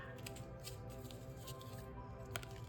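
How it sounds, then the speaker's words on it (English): Tarot cards being shuffled by hand, a soft papery riffling and patter of cards running steadily for a few seconds over a low background hum, close and fairly quiet. "just shuffling these cards for you guys"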